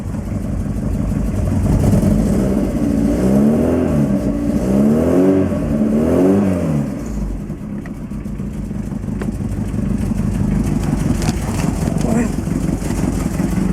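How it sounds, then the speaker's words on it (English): A nearby Lotus Excel car engine, over-revving from a throttle cable fault, drones loudly and revs up and down in repeated surges, then settles into a steady, raised hum. "It's over revving when I try."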